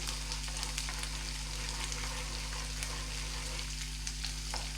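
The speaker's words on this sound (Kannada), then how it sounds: "ಸ್ವಲ್ಪ ಲೈಟ್ ಬ್ರೌನ್ ಕಲರ್ ಬರೋ ತನಕ ಫ್ರೈ ಮಾಡ್ಕೊಂಬಿಡೋಣ" Chopped cashew nuts fry steadily in a pan for rava idli, a continuous close sizzle with faint crackles and no talking.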